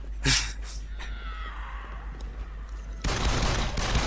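Gunfire from a weapon with no recoil in Shellshock 2, a short burst of shots up front, then a hissing lull and a dense noisy stretch of action, with no talk.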